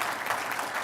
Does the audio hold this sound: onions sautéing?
no